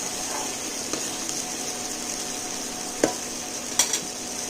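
Fish simmers in a lemon butter sauce in a pan with a steady, moderate sizzle, punctuated by a few sharp utensil taps against the pan.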